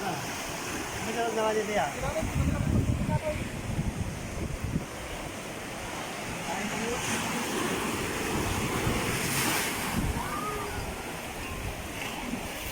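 Steady surf washing along a shore, with gusty wind noise buffeting the microphone throughout; no clear individual wave breaks stand out.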